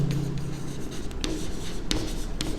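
A teacher writes out a commerce maths problem, with chalk or pen strokes scratching in short bursts and quick taps, close and clear, with no talking.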